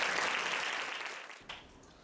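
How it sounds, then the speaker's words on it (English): Applause from an audience at an exstrophy association picnic, honoring volunteer pediatric urologists, a brief burst of clapping that fades quickly into a few scattered claps. "So I want to give them a round of applause."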